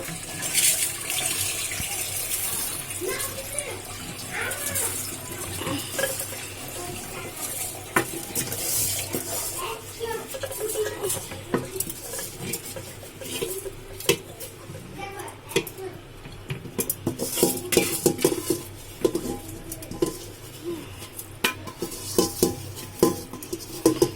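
Rice is poured into and handled inside a pressure cooker: rattling grains, scattered metallic clinks and knocks against the pot, with a voice talking intermittently over the clatter.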